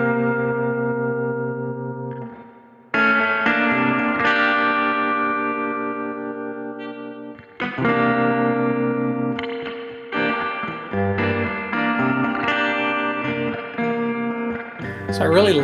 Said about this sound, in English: I just used some drive, some tape delay, tremolo, one of my favorites